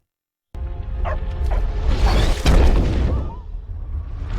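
A small dog barks and yips amid a loud, booming movie scene from Superman (2025), its sharp calls cutting through swelling rumble and impact noise, with brief voices mixed underneath.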